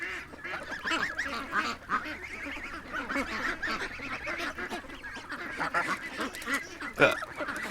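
A flock of geese honks continuously, with many overlapping calls at close to moderate distance forming a busy, noisy chorus.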